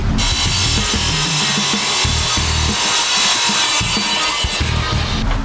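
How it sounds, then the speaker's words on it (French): A wet tile saw grinding steadily through stone, a continuous loud, harsh whine with slight shifts in pitch as the cut proceeds, close up. "Donc la scie à eau, pour faire ça, c'est quand même le top."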